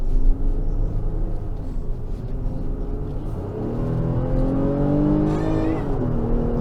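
A 2024 Infiniti QX60 with a 295-horsepower engine accelerating under throttle, its engine note climbing steadily in pitch over a low, constant rumble of road and cabin noise, heard from inside the car without talk.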